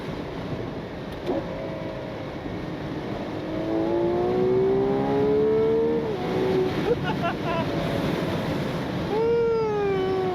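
A 2026 Ferrari 12Cilindri's V12 engine, driven with the roof off, climbs toward its 9,500 rpm red line in two rising, wailing sweeps over a background of wind and road noise.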